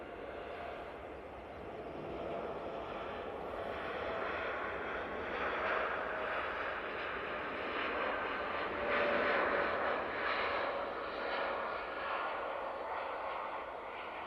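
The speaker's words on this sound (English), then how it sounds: "here we go with the TUI Dreamliner" A TUI Boeing Dreamliner departs Manchester Airport, its engine roar moderately distant and gradually swelling, a steady broad rumble with a rising whine, heard alone.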